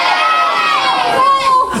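Young audience at a 2004 amateur pantomime of Sleeping Beauty shouting together in a loud, sustained, overlapping roar of voices that swells and fades over a couple of seconds.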